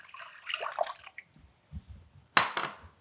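Water is poured straight into a mixing bowl for high-hydration pizza dough, a splashing gurgle followed by softer drips and a second brief pour, close and without talk.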